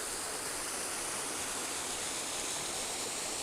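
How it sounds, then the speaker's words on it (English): Stream water flowing near an old mill on a hiking trail in Asturias, a steady, close rushing hiss with no pauses and no voices. "I guess that's the water that would be used by the mill in the past."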